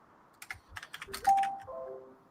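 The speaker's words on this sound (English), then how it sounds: "Nick, while you're ticky-tack typing on your fucking keyboard there" Fast, close computer keyboard typing in a short burst of light clicky keystrokes, followed by a faint electronic tone, with no talk.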